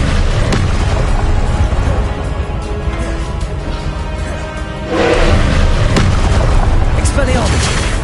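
In Hogwarts Legacy, a Confringo blasting spell explodes with a loud, deep boom that swells around midway, layered over a dense wash of game combat noise and rumble throughout.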